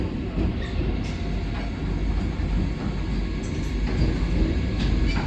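Mini Vande Bharat Express train on the South Central Railway, Kacheguda division, rolling through Mahbubnagar: a steady, close wheel-and-track rumble with faint rail clicks throughout.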